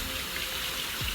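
Water runs steadily from a kitchen tap while a T-bone beef steak cooks, a close, even hiss that stays constant through the brief moment.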